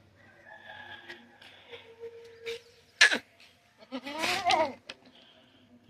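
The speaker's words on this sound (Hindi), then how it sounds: "जानवर इत्थे बज्जे दे होंदे, बकरियां, ते इंशाअल्लाह शेरू होरी है बज्जे दे।" Goats bleat on a farm in a few separate calls, near and fairly clear over a quiet background, with a rooster crowing faintly and some scattered rustling.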